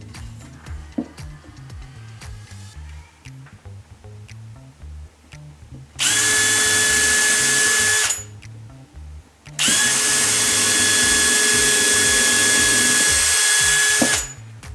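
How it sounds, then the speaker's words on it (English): A power drill pre-drilling a hole in wood for a Langstroth beehive whines loudly in two sustained bursts of a couple of seconds each, separated by a short pause, with quiet handling noises between. "And I'm pre-drilling a hole to prevent"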